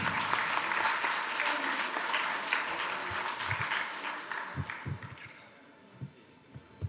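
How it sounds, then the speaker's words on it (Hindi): An audience at a poetry gathering bursts into loud, dense applause that holds steady for several seconds, then thins out into a few scattered, isolated claps as it fades. "आप सब अपने लिए एक भरपूर तालियां बजा दीजिएगा।"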